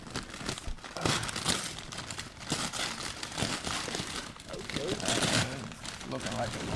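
A heavily wrapped package torn and crumpled open, with continuous loud crinkling and ripping of plastic and paper, bursts of tearing over about seven seconds, with people talking throughout.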